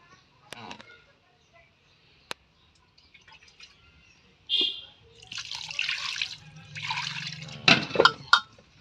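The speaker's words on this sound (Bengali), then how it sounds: "এবার অল্প করে জল দিয়ে দিব" Water goes into a pot of bata fish curry, a few scattered drips and taps first, then several close bursts of pouring and splashing, with a voice briefly present.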